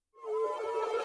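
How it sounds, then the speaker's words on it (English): A brief tonal sample blooms out of silence into a growing wash of reverb, rising and sustaining without dying away. "I automated the reverb so it kind of swells up like this."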